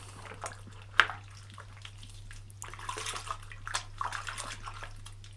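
A nitro engine's foam air filter is squeezed and swished in a basin of soapy water, producing soft sloshing and dripping with a sharper splash early on; no one speaks.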